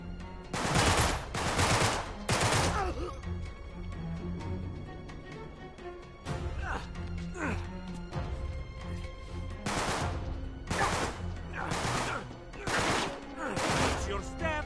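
Bursts of gunfire from a third-person action shooter, Uncharted 3: Drake's Deception, come in clustered volleys with short gaps, close and loud over a continuous game soundscape.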